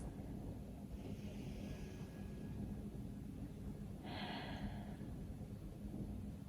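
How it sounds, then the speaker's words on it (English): Slow, deep breathing during a yoga forward fold, two soft airy breaths spaced a few seconds apart over a quiet, low room hum. "Take 3 deep breaths."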